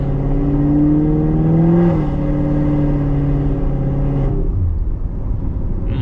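A Chevrolet C7 Corvette Z51 V8 drives along with a loud, steady engine drone, rising slightly in pitch through an acceleration before settling and easing off as it slows near the end.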